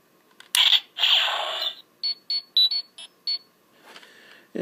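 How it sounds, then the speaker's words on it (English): A Deluxe Legendary Morpher toy gives a shrill electronic chirp, then a run of short, high, rapid communicator-style beeps in an uneven rhythm, close and loud. "kind of the old communicator beep"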